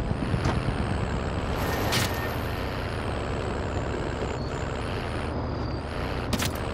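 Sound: truck driving in video game

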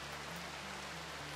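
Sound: rain in the video game Rimworld

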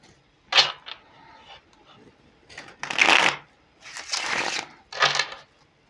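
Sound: riffling a deck of tarot cards

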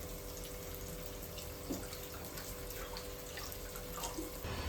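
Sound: water being poured into mutton masala curry

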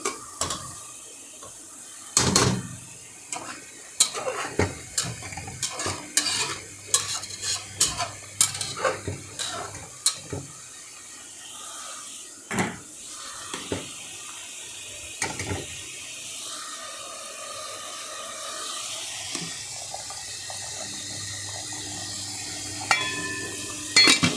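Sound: fish frying in a pan

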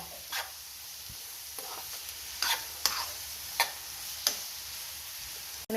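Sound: onions and curry leaves frying in a pan

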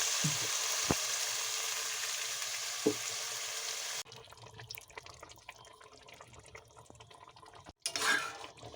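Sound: yogurt added to chicken sizzling in pan

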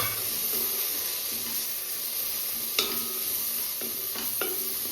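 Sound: black pepper and garam masala sautéing for egg curry

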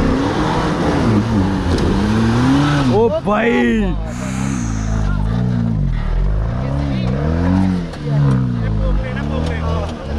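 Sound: Jeep Wrangler Rubicon engine revving while offroading

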